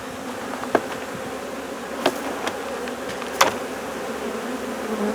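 A honey bee colony buzzes steadily on the comb while a queen is handled, a dense close drone broken by a few sharp clicks.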